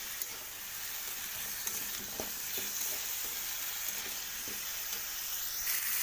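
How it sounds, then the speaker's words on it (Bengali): Vegetables sizzle gently in a pan with chicken, a soft, steady frying hiss broken by occasional scrapes and stirring taps, fairly faint and with no talking. "এরপর আমি সবজিগুলোকে দিয়ে দেব। তো দেখুন এটা আমি হালকা করে ভেজে নেব"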